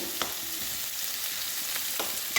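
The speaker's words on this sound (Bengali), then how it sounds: "আলুটা একটুখানি ভালো করে ভেজে নেব" Potatoes frying in a pan give a steady, even sizzle with a couple of soft stirring scrapes, close and alone with no voices.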